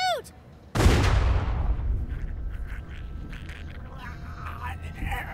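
A single loud gunshot in The Walking Dead game, a sharp close crack that booms and fades into a lingering echo, with anxious voices before and after.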